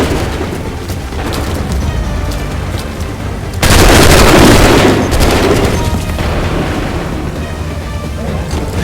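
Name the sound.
gunfire and cannon fire in Assassin's Creed III video game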